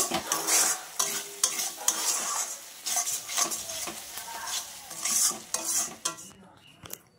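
Spices with turmeric stir-fried for a jackfruit and prawn curry give bursts of hissing sizzle broken by scraping and knocking of a spoon against the pan, loud and close, then falling quiet at the end.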